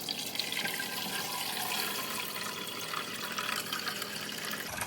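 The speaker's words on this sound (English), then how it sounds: "we're gonna go ahead and fill up the water" Filtered drinking water pours steadily into the water container of a Miele CM6150 coffee machine, a continuous close splashing trickle with no talk.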